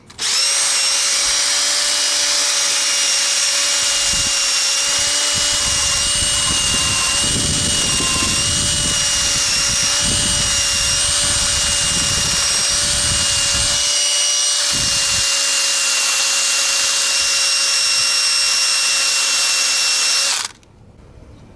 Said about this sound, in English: the drill's gonna do a lot better than the wire brush will